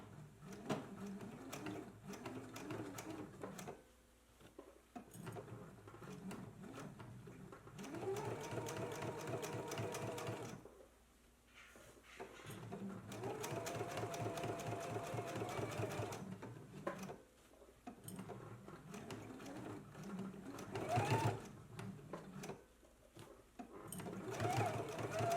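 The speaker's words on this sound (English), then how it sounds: "Let's go ahead and stitch using our regular machine stitch" A home sewing machine stitches the pocket lining onto a Know Me ME2132 jacket, running in several loud, steady bursts separated by short pauses, with a voice talking over parts of it.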